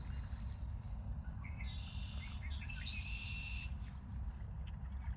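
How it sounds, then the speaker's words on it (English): Birds chirp and sing faintly beside the St. Lawrence River at dusk, brief high calls over a steady low background rumble, quiet and distant. "Birds are singing."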